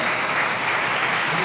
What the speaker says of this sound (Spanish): Pueden dar un aplauso al Señor